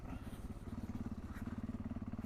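A Voge DSX650 motorcycle with an aftermarket Dominator exhaust idles with a deep, lumpy, pulsing exhaust note, steady and moderately close, with no other sounds.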